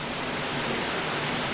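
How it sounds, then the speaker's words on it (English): Spring water gushing out of a rock bluff into a creek beside an old mill, a steady, loud, broadband rush of flowing water with no talking. "you can see water flowing out here"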